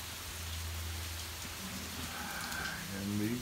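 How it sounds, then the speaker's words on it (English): Steady rain falls during a hurricane in Haiku, Maui, a constant broadband wash of drops on surfaces with a low hum beneath and a faint voice near the end. "Got a decent rain."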